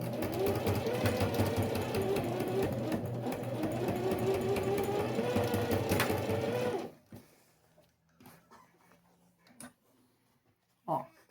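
A sewing machine stitches binding onto a small box made from a milk carton, whirring loudly and steadily for about seven seconds before stopping, followed by quiet handling clicks and rustles nearby.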